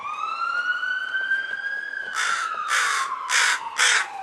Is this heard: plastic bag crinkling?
no